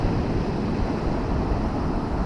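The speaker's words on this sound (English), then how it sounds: "You can see if you can see them waves crashing." Sea waves break on Hornsea beach as a steady, close, broad roar mixed with wind buffeting the microphone, with no speech.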